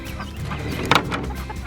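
Chickens softly clucking and murmuring in a straw-filled nest box, low continuous burbling with one sharper cluck midway, close and fairly quiet.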